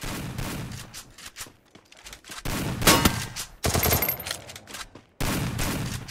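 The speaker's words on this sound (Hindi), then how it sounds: "किसी ने गोली चलाया भाई।" Loud, dense bursts of rapid automatic gunfire from AK and MP-40 guns crackle in a video game, broken by brief gaps and abrupt cuts.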